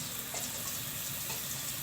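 Bundiya batter dropped into hot oil sizzles with a soft, steady crackling hiss for a brief moment, close by and with no talking.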